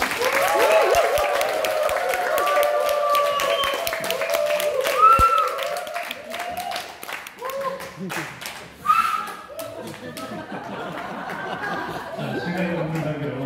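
A workshop audience applauds as a company CEO is welcomed to the stage, the clapping running beneath a voice speaking over it, with some chuckles and chatter mixed in.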